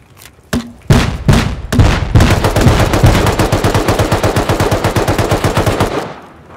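Gunfire in the survival video game Rust begins with a few separate loud shots. It then breaks into a long, rapid automatic burst that runs for several seconds before it stops abruptly.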